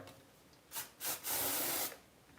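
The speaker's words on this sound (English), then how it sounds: "So just the spray deodorant, I like these ones because they're easy to apply." Spray deodorant is applied in two short puffs followed by a longer hissing burst, close and crisp in a quiet room.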